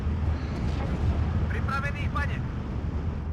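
155mm artillery shells land in Steel Division 2, a continuous low rumbling roar of impacts and booms that persists throughout, with faint talk and a few chirpy tones over the top.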